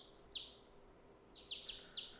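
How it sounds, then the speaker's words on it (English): Bright chirping bird calls from the game Hakuoki: Kyoto Winds, a few short tweets spaced apart over a soft steady background hum, no voices. "Bird sounds."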